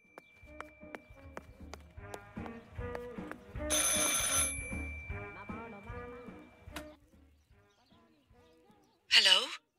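A telephone rings in the horror game Martha is Dead, with a bright burst near the end, following a stretch of music and voices.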